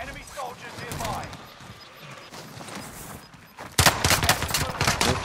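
Gunfire in the video game Call of Duty: Modern Warfare: a dense, loud burst of rapid shots erupts in the last second and a half after a stretch of muffled game noise and talking.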